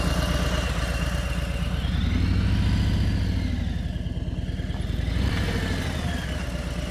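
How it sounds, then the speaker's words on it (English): A motorcycle engine idles steadily at close range during a riding lesson, a low rumbling pulse that holds even throughout with a slight rise and fall, no voices over it. "You taking the motorcycle for a walk?"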